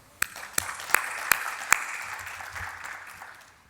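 Audience at the opening of the 37th Tunisian Orthopedic Society congress in Tunis applauds, starting with a few distinct slow claps that swell into a soft, spread-out hall applause and fade away.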